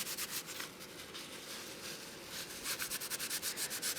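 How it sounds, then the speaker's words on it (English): Bristle brush scrubbed over the original japanned paint of an E. C. Stearns & Co. No 13, a steady close rubbing with slightly stronger, rhythmic strokes toward the end. "using this brush, I'm able to see if it's going to damage the paint any."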